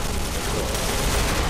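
Rapid gunfire crackles in a multiplayer shooter match, a dense, continuous burst of overlapping shots filling the short stretch.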